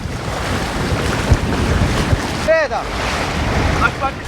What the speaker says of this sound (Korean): 맑은 날씨와 달리 먼 바다까지 나와 그런지 파도가 꽤 높습니다